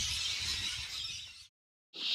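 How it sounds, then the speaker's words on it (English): Rainbow lorikeets near the water screech in a dense, high-pitched chorus that drops out briefly and then resumes, clear and fairly close, with no voices. "that's the sound of lorikeets"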